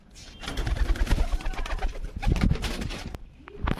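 A breeding pair of fancy Andha Phulshira pigeons cooing close by, soft throaty coos repeating in uneven bursts over a busy, rustling background, with no talk.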